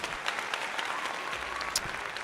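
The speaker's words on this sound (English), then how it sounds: "let's just give him a big round of applause for that." A steady round of applause from a crowd, dense clapping at an even level throughout.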